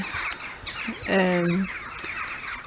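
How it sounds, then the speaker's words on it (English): Crows caw and squawk as they arrive to roost in the evening, one loud harsh call standing out nearby over a background of more distant calls. "Oh, I've got all the crows coming in now."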